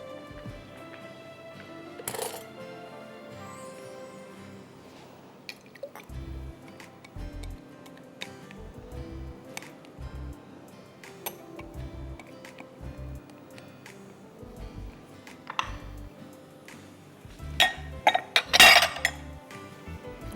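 Eggs are beaten in a bowl, giving a steady run of light rhythmic clinks and taps from the utensil against the bowl, close and moderately quiet, with a few louder knocks near the end.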